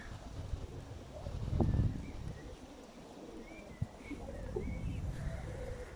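Pale-coloured domestic pigeons coo softly outdoors in light wind, with a couple of faint calls and a brief thump over steady breezy background noise, with no talk.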